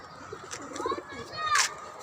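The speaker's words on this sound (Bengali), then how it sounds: "এদিকে আছে কবুতর" Pigeons kept on a rooftop garden give soft coos and calls, and one louder call comes near the end over quiet background chatter.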